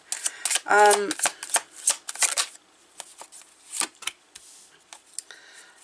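Cards being shuffled for a reading, a quick burst of riffling followed by softer shuffling and handling sounds, close and clear, with a voice heard briefly.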